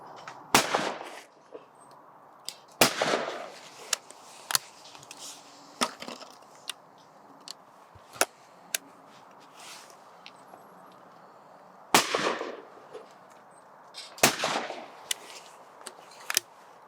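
A 16 bore shotgun fires several sharp, loud reports spaced a few seconds apart outdoors, each blast followed by a short ringing decay, with quiet background between shots.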